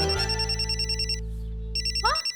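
A telephone rings in repeated electronic trills, with a brief pause partway through before the ringing resumes, loud and close over a steady low hum.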